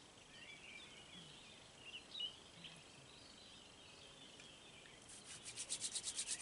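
Hands rub briskly together during a quiet qi gong exercise, a soft rhythmic swishing that grows faster and louder toward the end.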